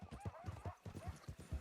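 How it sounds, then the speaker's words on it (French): Horse hooves clip-clop in a steady, loud walking rhythm in the Red Dead Redemption video game, with about seven close, even footfalls and no talk over them. "Mais vous êtes un cheval très fort, une mule très fort, mon cher John Horse."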